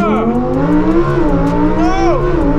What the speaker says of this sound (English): The factory exhaust, really loud in Corsa, which we'll, I'll show you in a second.